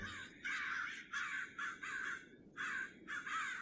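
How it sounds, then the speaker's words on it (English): A flock of crows caws as ambient sound in Alpha-era Minecraft, giving about six loud, evenly spaced harsh caws in a steady rhythm against a quiet background. "I don't think that crows existed in Alpha Minecraft."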